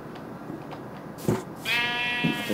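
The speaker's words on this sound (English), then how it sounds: "There's a sheep." A Minecraft sheep bleats in a blocky video game world, one wavering harmonic bleat rising clearly over a low game background after a brief thump.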